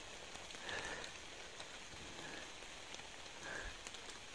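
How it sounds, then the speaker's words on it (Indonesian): Rain falls steadily at night in thick fog, a soft continuous patter with a few brief louder drops, faint and alone. "Tapi cuacanya lumayan ini kabut ya,"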